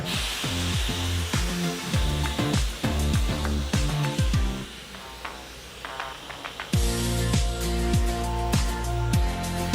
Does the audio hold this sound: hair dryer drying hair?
yes